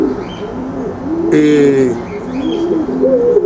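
Pigeons in Cuba coo in soft, rolling low calls, with one fuller burst in the middle, while someone talks over them nearby.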